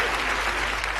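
An audience claps loudly and densely for the full second, a steady wash of applause with a voice faintly mixed underneath.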